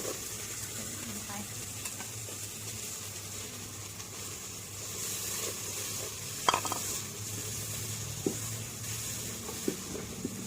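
Palm sugar being stirred in a cooking pot while making Thai stewed eggs, a steady soft scraping and sizzling at close range with a few sharper clinks of the utensil against the pot, no talking.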